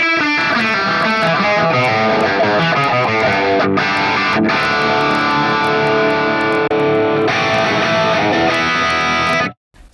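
Electric guitar played through a Tonex capture of a Marshall MKII SV20H amp with Greenback speakers, loud distorted chords ringing continuously with brief gaps before a final cutoff.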